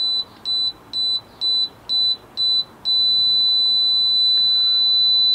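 A RedBack Lasers DGL1010GM laser receiver gives six short, loud, evenly spaced electronic beeps, then switches to one unbroken solid tone once it locks onto the laser.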